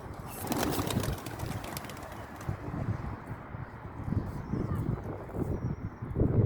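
Soft pigeon coos repeat under steady outdoor noise and some speech, low and close, continuing throughout.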